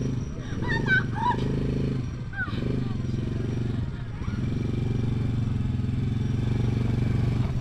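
An ATV engine on an adventure track at Cikole, Bandung, revs under throttle with a steady, buzzing drone that holds throughout, while voices chatter over it near the start.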